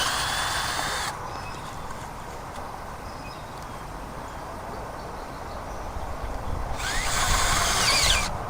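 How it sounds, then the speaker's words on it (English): A power drill with a spade bit bores holes into wood, a loud grinding drone that rises at the start and near the end, close and continuous, with no talk. "I usually drill them about as deep as the spade bit is."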